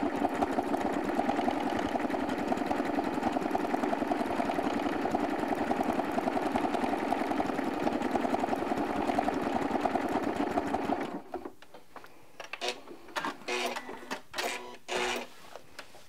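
A sewing machine quilting with invisible thread runs at a fast, steady stitching rhythm for about eleven seconds, then stops and gives way to a few brief, separate clicks and handling noises.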